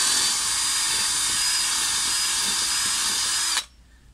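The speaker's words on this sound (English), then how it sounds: "So drill bit in the drill." A power drill reams out a wooden whistle blank with a loud, steady high whine that runs for about three and a half seconds, then cuts off sharply into quiet.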